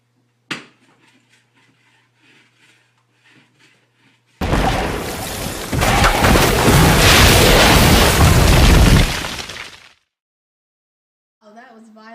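Homemade bomb explosion played back from footage: after near silence with a few faint sounds, a sudden loud, roaring blast surges and rumbles for about five seconds before cutting off, followed by brief speech.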